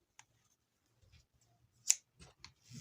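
Scissors snip through crochet yarn while fastening off a granny hexagon bag: a few faint, quick cutting clicks with one sharper snip near the middle, in an otherwise quiet room.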